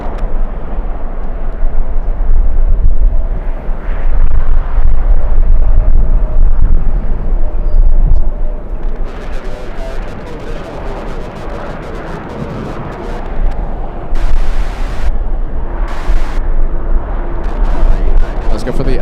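An American Airlines A321 jet lands at LAX in strong wind, giving a loud, continuous rumbling roar with gusty broadband rushing that swells and eases across the whole stretch.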